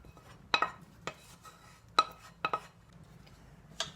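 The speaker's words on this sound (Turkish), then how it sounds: "sos ve köftelerimi güzelce birbirine karışacak şekilde karıştırıyorum" Spoon or utensil clinking against a bowl while bulgur köfte (fellah köftesi with spinach) is stirred into sauce, a few sharp close clinks and scrapes at irregular intervals over quiet kitchen background.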